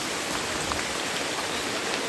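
Steady dense rain and running stream water in hilly terrain along a trekking route in Bandarban, a constant even hiss with no breaks and no voices.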